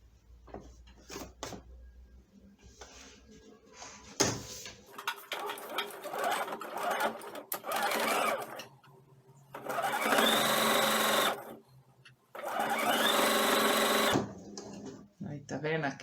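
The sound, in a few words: sewing machine stitching an elephant pillow ear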